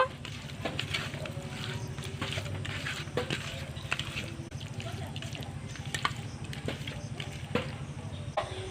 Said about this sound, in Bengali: তাই এখানে আমি হালকা করে ভেজে নেব।